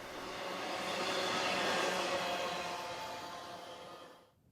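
A steady rumbling roar of a passing freight train in the Helendale Narrows, broad and fairly even, swelling and then fading out at the end.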